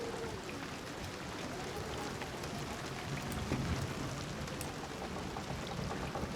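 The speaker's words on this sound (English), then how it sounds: "the sound of the wind and rain whistling through a decayed house" Wind and rain whistle through a decayed house in Hunt: Showdown, a steady wash of rain patter and hiss holding even across the whole stretch, with no voices.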